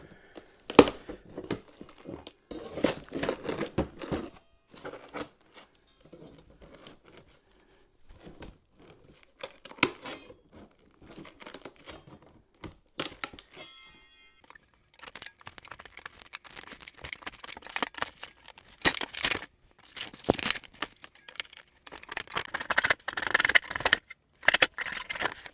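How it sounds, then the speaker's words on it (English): A sturdy scraper is worked hard across an old photography and videography equipment hard case, giving irregular scratchy, crinkling strokes at close range. The strokes come in bursts with short pauses and grow denser and louder toward the end. No one speaks. "I'm going to take a nice sturdy"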